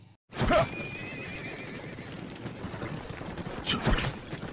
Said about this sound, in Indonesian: Singkatnya mereka sudah berada di kereta kuda